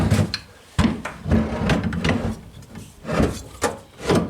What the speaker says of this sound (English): Slide your rack over the top of the bushings.